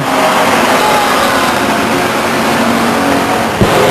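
Race cars roar at full throttle around Stockton 99 Speedway, a loud dense engine howl with rising revving tones as the pack passes close by, plus a brief thump near the end.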